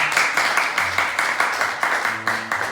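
A church congregation at a Sunday worship service claps to welcome visitors, with steady, rhythmic applause from a modest crowd in a room, about four claps a second.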